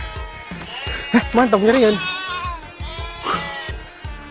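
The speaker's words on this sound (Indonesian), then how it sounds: "kalau di sini ini namanya domba, sahabat" Sheep bleat loudly from a pen in a rural village: one long, wavering, close bleat stands out among soft rhythmic rustling. Someone talks over the animals.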